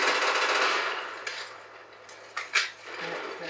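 A picked-up gun fires in Black Ops 1 with a loud, dense burst of rapid shots at the start, then a few sharper isolated cracks and clattering hits, close and without talk.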